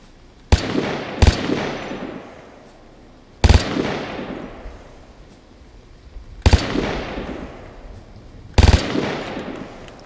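Light machine gun fire in the shooter game Vigor: four loud, sharp bursts spaced several seconds apart, each a quick clatter of shots trailing off into a long rolling echo.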